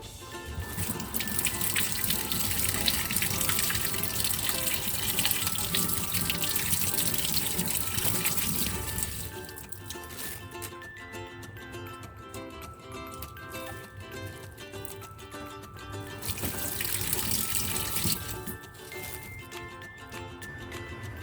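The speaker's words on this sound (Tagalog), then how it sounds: "hugasan lang natin ito para matanggal yung kanyang mga, mga dumi" Kitchen tap water runs steadily into a sink as sea coconut and pork soup ingredients are rinsed, a broad rushing flow that swells loud, drops quieter midway with faint splashes, then surges again near the end.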